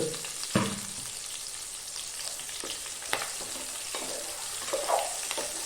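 Sliced onion sautéing in hot oil for a Kerala-style chicken roast, a steady close sizzle broken by a few sharp stirring scrapes and clinks of a spoon against the pan.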